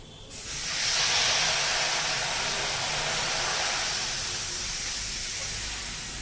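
Water hits a hot oil tempering with a sudden loud hiss that swells into a broad, steamy sizzle and slowly fades, close up.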